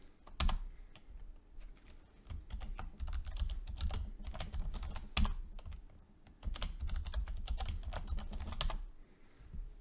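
Quick clicking keystrokes on a computer keyboard as a sudo passwd command is typed, close and crisp, with irregular bursts and short pauses and no voices.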